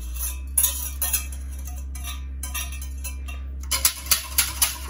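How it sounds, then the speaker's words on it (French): Light metallic scraping and clinking of a utensil against the bottom of a saucepan, gathering vanilla seeds for homemade yogurt, in short bursts, growing into a quicker series of taps and scrapes near the end. "je récupère les petits grains de vanille au fond de la casserole."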